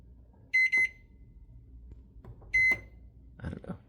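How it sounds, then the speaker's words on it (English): A hotel room microwave oven gives short electronic beeps as its buttons are pressed: a quick double beep, a single beep about two seconds later, then soft handling noises, close and clear in a quiet room. "And then a microwave that seems pretty clean, actually. So let's see. We will try to bake a potato here."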